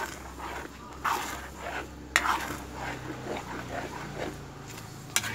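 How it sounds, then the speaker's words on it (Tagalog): Dinuguan, a pork blood stew, stirred in a pot, with soft repeated scraping strokes and a few sharp utensil knocks against the pot over a low, steady background hum. "Haluin natin."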